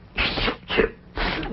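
A single sharp sneeze in a 1960s comedy scene, with short breathy vocal bursts around it, clear and close.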